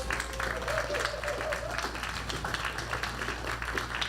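A church congregation claps for members celebrating June birthdays and anniversaries, a moderate steady burst of applause lasting a few seconds with light crowd murmur underneath.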